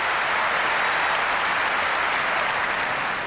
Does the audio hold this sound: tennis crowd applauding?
yes